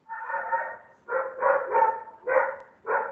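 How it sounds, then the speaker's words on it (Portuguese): A small dog barks indoors at home in a run of five or six sharp, yappy barks with brief gaps, fairly close and clear, with no talking over it. "Ó, tem um cachorrinho aí latindo."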